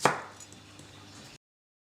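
A knife cutting the core out of an apple: one crisp, close chop followed by a brief faint scrape, then silence.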